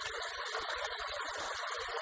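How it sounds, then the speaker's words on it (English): A small waterfall in a creek canyon in Sonoma County gives a steady, loud rush of falling water. Low thumps of wind buffeting sound beneath it, and there is no talk. "Nice little waterfall up there, coming down from the canyon."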